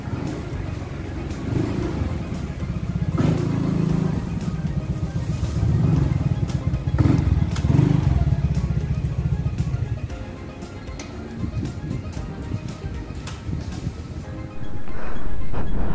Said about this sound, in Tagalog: Yan ang ating motor.